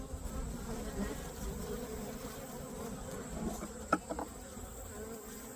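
Caucasian honeybees buzz around an open hive during requeening: a steady, faint insect drone with a few brief, sharper buzzes as single bees pass close.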